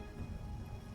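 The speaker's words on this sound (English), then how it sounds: "the woods are dark and rainy" Steady rain hisses in dark, rainy woods in a video game, a faint, continuous wash of falling drops with a low rumble underneath and no voices.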